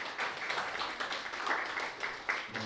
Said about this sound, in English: another massive round of applause for Rita